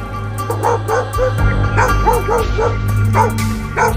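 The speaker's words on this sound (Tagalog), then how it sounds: "sinugod ng aso ang mga magnanakaw habang tumatahol ng malakas" A dog barks and yips repeatedly in short excited bursts, close and loud, over a steady low hum.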